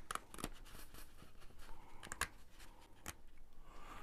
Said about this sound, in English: I'm just going to cut it all out.